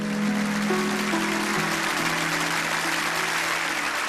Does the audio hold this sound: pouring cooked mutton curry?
no